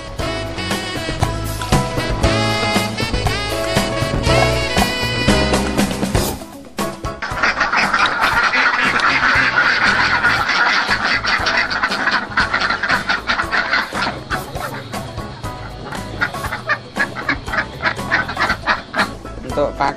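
A flock of laying ducks quacking on a farm, a loud continuous chorus of overlapping quacks and honks up close, with people talking in the background.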